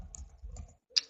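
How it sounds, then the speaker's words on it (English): A computer keyboard being typed on up close gives a few quick, soft key taps, then a brief pause and one sharper click at the end. "So I'm typing it here for you."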